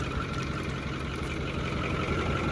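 A naturally aspirated Ford F8000 truck with a 636ci V8 idling, a close, steady low rumble with an even throb that stays constant throughout.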